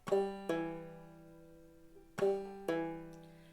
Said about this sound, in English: That is called an alternate string hammer-on.